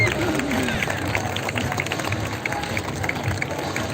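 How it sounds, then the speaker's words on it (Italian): Audience clapping and cheering for a singer being called to the stage at a fashion show, a steady, dense wash of applause with crowd murmur throughout. "a cui chiedo un applauso"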